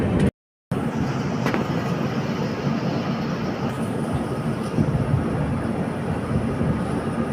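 Diesel-hauled passenger train with a WDP 4D locomotive approaching on an Indian railway line, a continuous loud rumble of engine and wheels with a brief dropout near the start and no speech.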